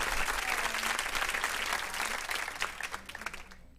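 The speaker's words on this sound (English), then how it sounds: "I guess I'll give myself an applause." Crowd applause during a live radio stream, a busy patter of many hands clapping that thins out and fades over nearly four seconds, with a low hum underneath.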